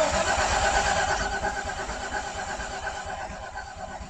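The starter turns over a VW Corrado VR6 Turbo engine after the key is turned, a steady grinding crank that never catches, close and moderately loud, fading slightly toward the end.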